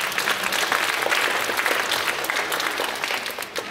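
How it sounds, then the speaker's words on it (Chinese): Audience applause at a twentieth-anniversary dance showcase, a dense sustained clapping from a large crowd that fills the whole stretch evenly and loudly, with a faint murmur beneath it. "让我们用最热烈的掌声感谢他们的到来"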